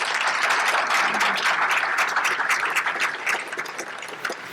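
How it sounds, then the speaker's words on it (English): A round of applause from an audience at a Rotary club meeting with guest speakers, dense clapping of many hands that is loud at first and then gradually thins and fades toward the end. "can you give my colleagues another round of applause?"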